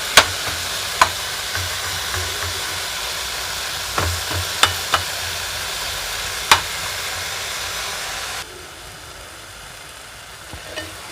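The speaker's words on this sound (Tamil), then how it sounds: "தக்காளி நல்லா சுருளை வதங்கட்டும்" Tomatoes and garlic sauté in a pan for a drumstick and garlic kuzhambu, giving a steady close sizzle with occasional scrape clicks of stirring, the hiss dropping quieter near the end.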